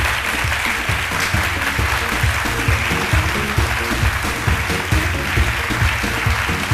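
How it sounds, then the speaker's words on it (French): Loud, dense audience applause greeting a guest in a television studio, sustained clapping filling the room with rhythmic low thumps under it. "On va le recevoir avec des ovations bien nourries"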